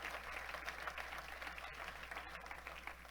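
Church congregation giving a long round of applause during a sermon, a faint, steady, dense clatter of many hands clapping at a distance over a low hum.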